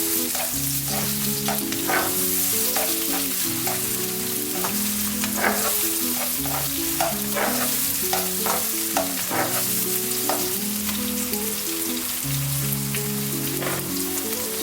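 Green seasoning being stirred into quiche filling as it fries in a pan: a continuous close crackling sizzle with repeated scraping stirs, under steady background music.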